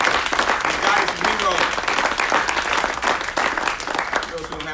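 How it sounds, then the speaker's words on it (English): An audience at a city of Aurora media briefing gives the fire department a sustained round of applause, continuous dense clapping with voices mixed in throughout. "Let's give a round of applause to the whole fire department in here tonight."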